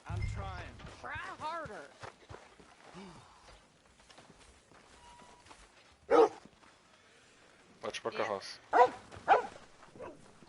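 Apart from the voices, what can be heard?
dog barking in Red Dead Redemption 2 video game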